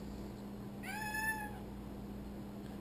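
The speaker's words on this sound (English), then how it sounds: "The kitty wants to be on the video too" A house cat meows once, a clear rising-and-falling call of about half a second standing out over a steady low electrical hum, with quiet room tone before and after.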